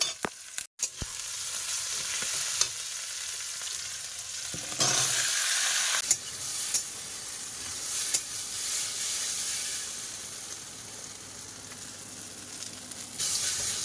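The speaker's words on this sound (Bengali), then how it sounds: "কড়াইতে পেঁয়াজ দিয়ে দিলাম, তেল, কড়াইয়ের মধ্যে তেল আর পেঁয়াজ দিয়ে দিয়েছি। পেঁয়াজটাকে ভালো করে ভেজে নেব।" Onions fry in oil in a wok with a steady sizzling hiss, broken by a few scraping stirs and a sharp clack near the start, close and moderately loud with no talking.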